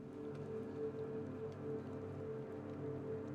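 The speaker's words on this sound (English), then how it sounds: "Rain is flooding our neighborhood." Steady rain in the video game Dispatch, a quiet, even patter with a low hum underneath and no voices.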